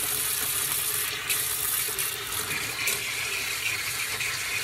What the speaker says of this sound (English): Make sure that you rinse your vegetables before you use them.